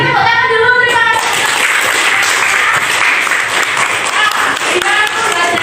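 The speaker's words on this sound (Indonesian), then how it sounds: "Sekarang tepuk tangan dulu, terima kasih" Students clap their hands together in a classroom, a sustained crowd of claps after a teacher's short spoken lead-in, with another voice surfacing near the end.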